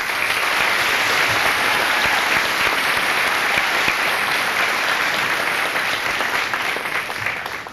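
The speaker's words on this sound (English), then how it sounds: "Give these students another round of applause." An audience at a high school senior assembly applauds the students, a dense, even roar of many hands clapping that holds steady and loud before easing slightly at the end.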